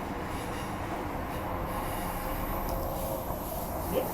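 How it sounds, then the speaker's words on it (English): Transperth A-series electric train on the Armadale line, running steadily at speed with a continuous loud rumble of wheels and rails and a faint squeal near the end. "we're just gonna do one station journey on the Armadale train to Oats Street"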